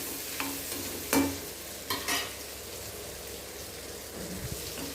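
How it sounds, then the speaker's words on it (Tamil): Soya chunks frying in a pan until crisp, giving a continuous low sizzle with a few scraping stirs near the start and no voices. "நல்லா முறு முறுன்னு ஆற வரைக்கும் நல்லா ஃப்ரை பண்ணிவிடுங்க"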